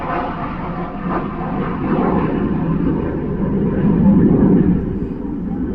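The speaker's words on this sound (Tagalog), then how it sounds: "there's a jet." A jet aircraft roars overhead as a steady, loud rumbling drone that swells toward the middle and end, with muffled voices faintly underneath.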